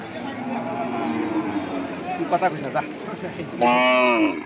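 A cow bellows at a rainy village cattle market. One long, close moo rises near the end after a stretch of crowd noise and voices talking.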